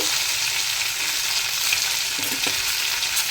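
Onion, tomato and green chilli frying in a pan with turmeric and salt, a close, steady crackling sizzle with brief bursts of stirring, no talking.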